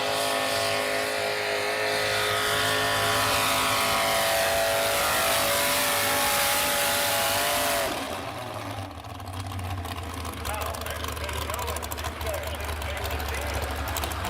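Modified pulling tractor powered by triple big block Chevy engines roaring at high revs, a loud sustained tone that drops sharply in pitch partway through into a lower, rougher rumble, with commentators talking over it.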